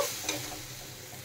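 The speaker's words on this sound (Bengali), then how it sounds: "দিয়ে এখন কিছু মশলা ভালোভাবে কষিয়ে নিতে হবে" Spice paste sautéing in a pan for a potato and pointed gourd dish, a brief close hiss of sizzling with a single stirring tap.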